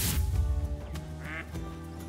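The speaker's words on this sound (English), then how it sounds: "ducks flying overhead" Ducks quack overhead in the hunting video game Call of the Wild, a few loud, nasal calls close by over a steady low rumble of game ambience.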